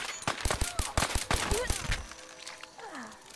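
Gunfire in Fallout 4: a burst of sharp shots clustered in the first two seconds, rapid and fairly close, then tapering off beneath background game sounds.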